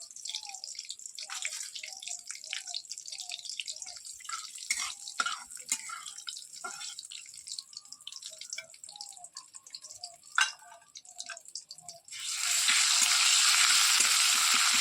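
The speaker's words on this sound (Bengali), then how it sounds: "পেঁয়াজটাকে ভালো করে একটু ভেজে নেব" Onions fry in oil for a prawn and papaya curry, with an irregular crackling sizzle and drips, then a sudden loud, steady hiss as they go into the hot oil.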